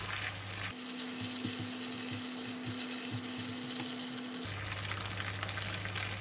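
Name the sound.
stir frying red curry paste and kaffir lime leaves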